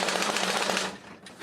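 An old mechanical sound-effect device from Disney Imagineering, cranked clockwise to imitate an old machine gun, gives a fast, dense rattling burst that stops abruptly after about a second.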